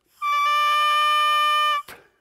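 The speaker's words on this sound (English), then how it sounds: "Without the instrument, the reed might sound like this." An oboe double reed blown on its own without the instrument gives one bright, buzzy, steady tone lasting about a second and a half, ending with a short click.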